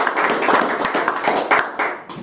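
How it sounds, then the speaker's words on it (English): Audience applause at a school district board meeting, a mix of fairly close hand claps filling the room steadily for a couple of seconds before thinning out near the end. "applause"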